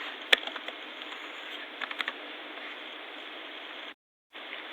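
Rapid typing on a computer keyboard while filling in a document, steady clicky keystrokes with a few sharper taps over a constant hiss, stopping briefly near the end before resuming.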